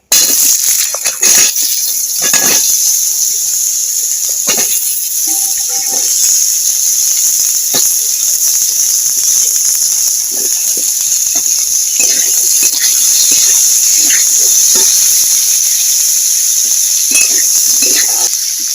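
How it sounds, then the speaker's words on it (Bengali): Potatoes fry in hot oil in a wok, a steady bright hiss and sizzle running throughout with occasional clinks and pops up close, fairly loud and continuous. "এবার আলুগুলো ভেজে নেব।"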